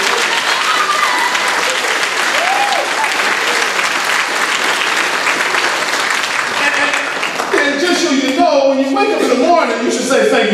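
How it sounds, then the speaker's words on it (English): A church congregation applauds during Catholic Mass, loud and dense clapping with crowd voices and a few cheers mixed in, then a singing or speaking voice rises over the fading applause near the end. "we all have to just give Jesus a round of applause"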